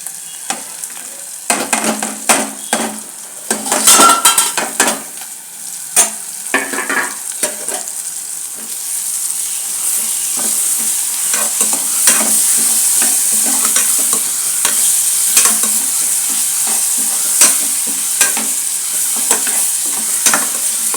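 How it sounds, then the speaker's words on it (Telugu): Meat frying in a Rayalaseema-style shahi chicken curry, sizzling in onion-ginger paste with bay leaves, turmeric and spices; a steady broadband sizzle with clattering stirring strokes early on, then continuous frying without talk. "ఇప్పుడు ఇందులో అది కొద్దిగా ఫ్రై అయిన తర్వాత మాంసం కూడా ఫ్రై"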